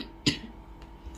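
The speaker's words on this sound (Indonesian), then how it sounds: "maaf ya, saya batuk" A single short cough bursts out from a nearby woman during a tarot reading, brief and sharp, followed by quiet room tone.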